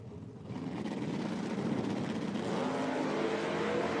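Drag race cars launching side by side at a raceway, a Challenger and a Mustang in Top Sportsman qualifying, a loud sustained engine roar that swells in the first half second and holds steady at close range.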